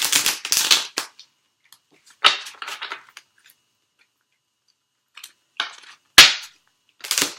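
Tarot cards riffled and shuffled by hand in quick crisp bursts, several short clattering runs separated by pauses, close and dry.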